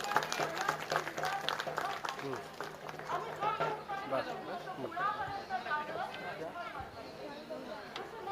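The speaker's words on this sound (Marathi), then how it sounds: "आल्हाड साहेबांसाठी सगळ्यात जोरात टाळ्या वाजल्या पाहिजे" A crowd at a Dhammabhoomi Dehu Road 69th anniversary gathering claps for speaker Kiran Alhad, a steady mass of applause with chatter mixed in, voices heard over the clapping throughout.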